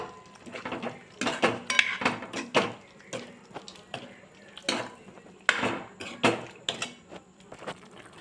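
A spoon scrapes and knocks repeatedly against a metal pot of boiled chickpea curry in an irregular stirring rhythm, with soft wet squelches between the clanks.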